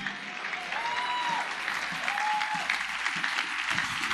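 A church congregation applauding at a Sunday service, a dense, steady round of clapping throughout, with brief voices and whistle-like tones above it.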